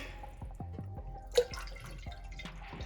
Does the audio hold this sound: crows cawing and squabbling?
no